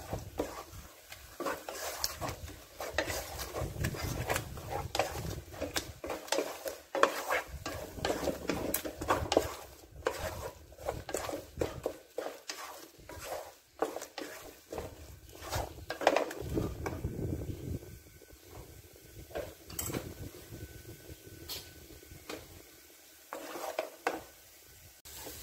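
Mudakathan keerai egg podimas seasoned with black pepper being stirred in a pan, with a soft continuous sizzle under repeated scraping and clinking of a spatula against the metal, close and steady throughout.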